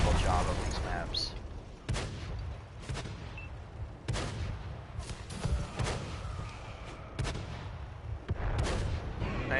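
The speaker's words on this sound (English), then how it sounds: "I decided to shoot a few blank rounds just to give you guys an idea how fast this thing shoots" Blank rounds fired from a weapon in a Halloween event of a video game, a rapid series of loud, booming shots at uneven intervals, close and punchy, with a heavy rumbling tail between bursts.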